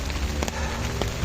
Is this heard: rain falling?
yes